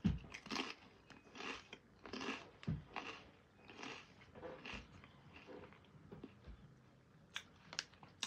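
Someone eats a WW paprika crisp snack up close, with repeated crisp crunches and chewing in an uneven rhythm and no talking.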